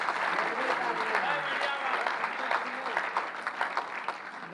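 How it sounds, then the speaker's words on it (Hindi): Continuous crowd clapping at a Hindi poetry recital, a dense, even wash of hands lasting several seconds, with a voice carrying faintly through the applause. "दो तालियां मिलकर एक बार।"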